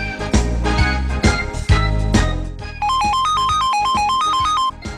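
A mobile phone ringtone plays a repeating electronic melody of bright alternating tones for about two seconds, loud and steady, following earlier musical background sounds.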